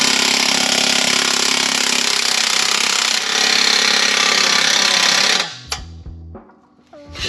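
An impact wrench hammers continuously and loudly while tightening Corsa exhaust bolts on a 2018 Mustang GT, a dense buzzing rattle for about five seconds before cutting off, followed by a few quieter clanks.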